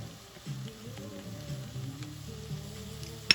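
Celery, sage and thyme in a soup pot give a low, steady sizzle with faint stirring scrapes underneath and a sudden louder knock right at the end. No one speaks.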